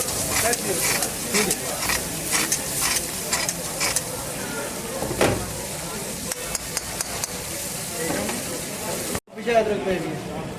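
Chicken karahi with yogurt stirred and frying in a pan at a dhaba, a steady loud sizzle with repeated scraping stir strokes, briefly cutting out near the end.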